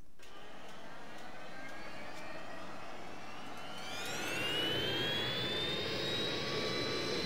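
A Cessna Citation C-560XL jet engine spools up from a cold start in a flight simulator, a faint hiss and whine building into a rising, louder turbine whistle that keeps climbing in pitch.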